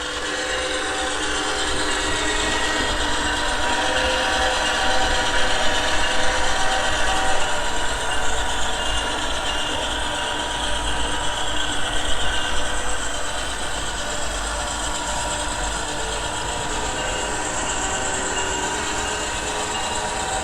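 Two model trains run together on a layout, a continuous close mechanical whir and ratcheting gear rattle with steady clicking over the track, no talking.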